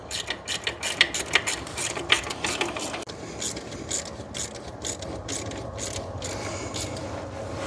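A ratchet wrench clicks rapidly in short bursts while snugging starter bolts on a Hyundai Santa Fe 3.3L, close and moderately quiet, with brief pauses between runs of clicks.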